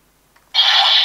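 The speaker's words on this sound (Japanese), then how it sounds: "剣撃音 A。" A Shuriken Sentai Ninninger toy ninja sword fires its electronic slash effect: after a brief near-silence and a faint tick, a bright, loud, hissing metallic swoosh bursts in and holds steady to the end.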